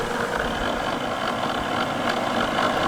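An EcoAir DD122 dehumidifier runs with its fan wheel turning, a steady mechanical whir with a faint scraping rattle, likely from folded corrugated cardboard caught in the wheel. The hum is close and continuous, with no talking over it.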